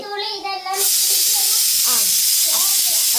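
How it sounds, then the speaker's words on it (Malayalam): A loud, steady steam hiss from a pressure cooker cooking tapioca bursts in after a short tonal vocal sound, with a voice faintly underneath the hiss. "നമ്മുടെ കുക്കർ അടിച്ചോണ്ടിരിക്കുകയാണ്."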